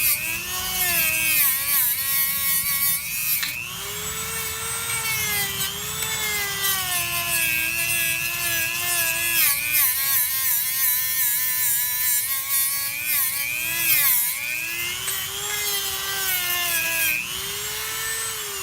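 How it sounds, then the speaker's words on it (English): A small Dremel rotary tool grinds inside a brake bore on a 2012 Buick ABS part, a steady high whine that rises and falls in pitch as the bit loads and frees, close and continuous. "Clean it up with the Dremel."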